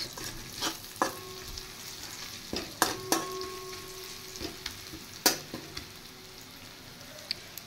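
Dried fish mixed with dried chilli and garlic, with fried onion and boiled potato, sizzling in a pan, a low steady fry punctuated by several sharp clinks and scrapes of a spatula, no speech.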